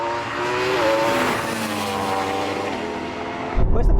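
A Porsche Taycan Turbo GT electric car and a Yamaha R1 motorcycle drag racing, with a rising whine and engine roar sweeping past, then cutting off abruptly into close, loud wind buffeting.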